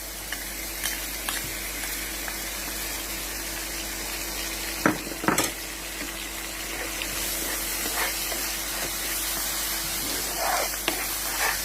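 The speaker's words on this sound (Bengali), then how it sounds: "মশলাটা হালকা আছে এভাবে কষিয়ে নেবেন" Spice paste of ginger, cumin, turmeric, chili and salt frying in oil, a steady close sizzle with intermittent scraping clicks of stirring throughout.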